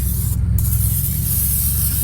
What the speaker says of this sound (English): We're gonna take a little spray oil. This is canola oil. We're just gonna spray the surface.